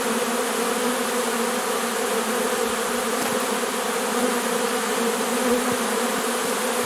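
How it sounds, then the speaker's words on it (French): A huge honeybee swarm entering a 12-frame Dadant hive, bees fanning at the entrance: a dense, continuous buzzing drone, loud and close, holding steady throughout with no voices. "Là, on voit qu'il y a les abeilles qui battent le rappel."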